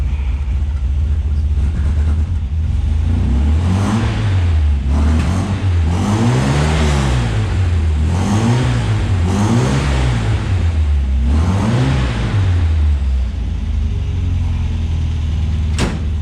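An MGB sports car engine idles loudly and steadily while still cold, its low rumble rising and falling in a regular lumpy rhythm, close by with no talking.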